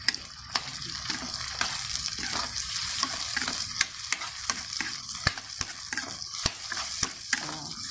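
Del Monte tomato sauce stirred in a pan for fish escabeche, a low simmering sizzle punctuated by repeated sharp spoon clicks against the pan at a fairly even pace, close and clear, no voices.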